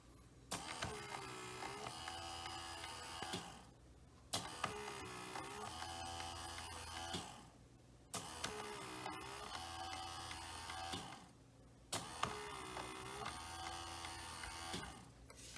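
A Bachmann model railway turntable motor whirs steadily as the deck rotates clockwise, running in four long stretches of about three to four seconds each, separated by brief pauses, faint and mechanical with no voices.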